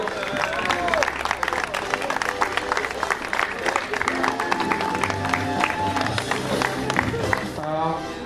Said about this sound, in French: Bravo, on peut l'applaudir.